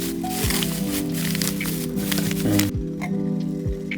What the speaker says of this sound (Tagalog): Kumukulo na ang ating tubig.